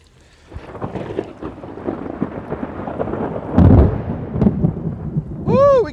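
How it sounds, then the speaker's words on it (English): Thunder from an approaching storm rolls and rumbles at an off-grid barn house build site, with rain hiss underneath and a louder peak partway through. "Woo, we got thunder going on."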